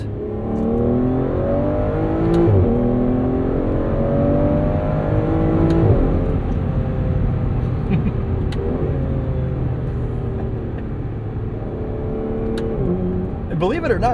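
A 2015 Aston Martin Vanquish engine drones loudly and steadily from inside the cabin, its pitch climbing and dropping in repeated sweeps as gears change, with a few sharp clicks along the way.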